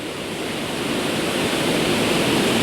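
A waterfall roars as a steady, dense rush of water, loud and constant, swelling slightly toward the end.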